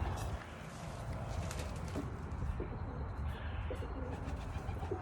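Racing pigeon cocks of the Heitzman Sion line coo and grunt in a loft bedded with straw, a low, steady murmur of overlapping calls with a faint rustle, unbroken through the whole stretch.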